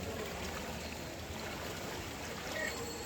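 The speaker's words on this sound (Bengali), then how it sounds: "প্রচুর স্রোত" Strong floodwater current rushing through a street in Feni after two days of rain, a steady, dense wash of flowing water throughout, with no talk over it.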